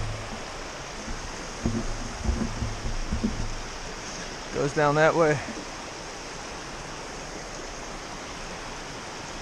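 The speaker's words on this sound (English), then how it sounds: "We have a waterfall. A little cascading" A small cascading waterfall on the Appalachian Trail gives a steady, broadband rush of falling water throughout, with someone briefly speaking over it midway.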